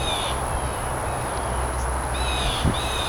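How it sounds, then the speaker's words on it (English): Backyard ambience near a creek with a steady high insect-like drone, low rumble underneath, and a few faint bird calls repeating in the distance. "You can hear the birds calling."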